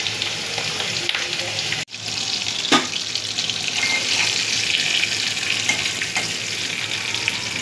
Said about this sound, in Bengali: এখানে মাছ ভাজা করে নিচ্ছি দুটো